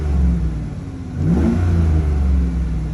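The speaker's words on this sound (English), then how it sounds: "this truck started right up" A pickup truck engine running after a jump start from a NOCO GBX55, idling low then revving up briefly and holding a steady rumble, close and loud with no talking.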